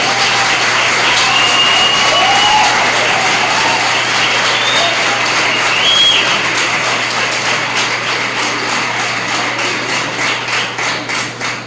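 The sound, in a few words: audience welcoming applause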